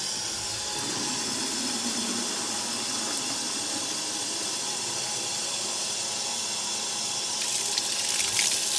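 Water pours steadily into the tank of a VEVOR ultrasonic cleaner, a continuous close hissing gush that runs unbroken and swells slightly near the end, with no talking.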